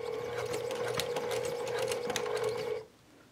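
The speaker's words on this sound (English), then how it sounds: "I'm gonna stitch it in place slowly" A sewing machine runs steadily, stitching fabric for a small plush bear at slow speed, with a continuous whirring hum and rapid mechanical ticking for nearly three seconds before stopping abruptly, close up and with no talking.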